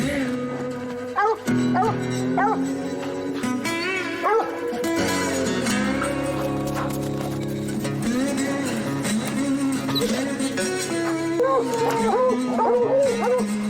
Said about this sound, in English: That's the dogs giving voice.